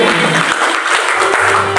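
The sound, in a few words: applause at a church prayer service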